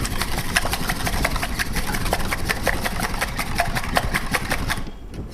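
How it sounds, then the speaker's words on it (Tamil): Eggs, three of them, beaten hard for an omelette, giving a steady fast rhythmic clatter of whisking against a bowl that runs nearly throughout before briefly easing at the end. "3 முட்டை எடுத்துக்கிட்டு நல்லா அடிச்சுக்கோங்க."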